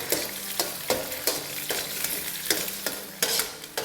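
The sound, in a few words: mixing two eggs in a hot frying pan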